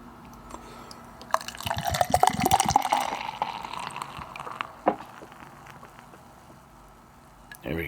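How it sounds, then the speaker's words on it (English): Double hazy IPA, 8.3%, glugging and splashing hard into a glass in a heavy pour, a few seconds of liquid noise that ends with a clink. "That was a heavy pour"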